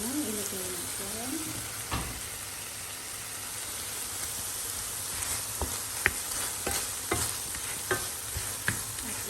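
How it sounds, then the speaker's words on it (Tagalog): Spicy pork bulgogi and onion sizzle steadily while being stir-fried, with a continuous hiss of frying broken by sharp scraping clicks of a utensil against the pan, close and moderately loud. "Mix natin hanggang maluto ang pork spicy bulgogi and onion."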